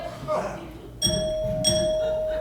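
A bright chime rings twice over a room full of murmuring voices, each tone sustaining and fading slowly.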